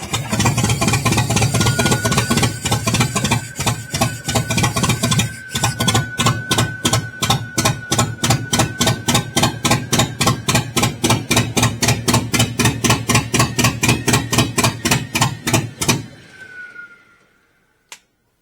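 An Allis Chalmers engine on a LeRoi 125 CFM air compressor runs rough and misfires with a fuel pump fault, giving rapid uneven chugging beats up close before cutting out and falling silent near the end.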